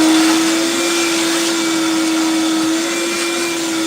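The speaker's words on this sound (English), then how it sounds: "Maybe I don't want to have to keep turning on and off the fucking vacuum." A shop vacuum runs steadily in a woodworking shop, a loud, constant whine with a sustained tone and no breaks, with no voices over it.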